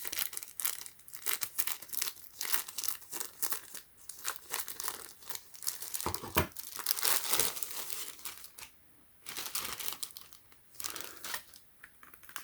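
Factory-sealed SUPCASE case packaging for Apple Watch and iPad being cut open, with close, continuous crinkling and tearing of plastic and cardboard that swells and fades in irregular bursts, no talking.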